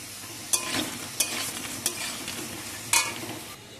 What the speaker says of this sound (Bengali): হালকা আঁচে এগুলোকে ভাজতে হবে